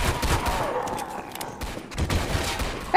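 Rapid gunfire in a zombie survival shooter video game, a dense, loud rattle of overlapping shots that dips briefly in the middle and then resumes with renewed bursts.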